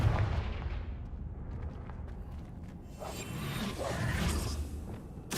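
The Confringo fire spell is cast in Hogwarts Legacy, a video game. It gives a whooshing, rumbling blast with low booms, followed by a second surge of crackling burst near the end.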